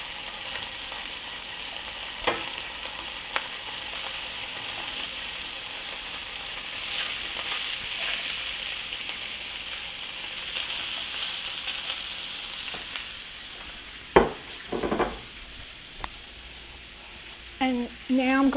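Potatoes and smoked sausage sizzle steadily as they fry in a pan, with occasional scrapes and clatters of stirring toward the end; close and continuous, no talking.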